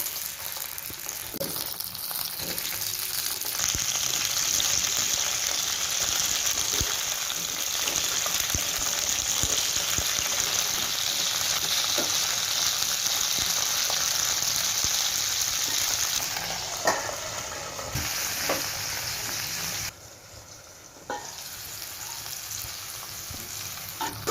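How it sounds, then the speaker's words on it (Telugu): Ivy gourds fry in hot oil over a medium flame, giving a steady, fairly quiet sizzle that continues throughout with occasional crackles and a brief dip near the end. "ఆయిల్ హీట్ అయిన తర్వాత దొండకాయలను వేసుకుని మీడియం ఫ్లేమ్లో రెండు మూడు నిమిషాలు మగ్గించుకోవాలి"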